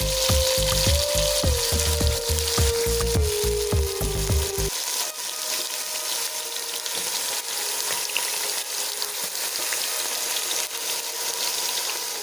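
Brinjal fries in hot oil with a continuous, even sizzle that keeps going alone after a short musical passage at the start, with no talking.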